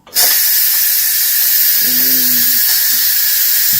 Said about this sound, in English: Alright, so I'm going to release the steam.